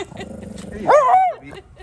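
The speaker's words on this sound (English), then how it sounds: "That puppy may win the award for the least effective guard dog in the universe, but totally adorable." A puppy on a downtown street in Lexington, Kentucky lets out a single brief, rising bark-whine at close range. A low murmur of street sound and voices comes before it.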